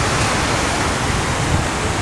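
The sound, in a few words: ocean waves on the Chilean Pacific coast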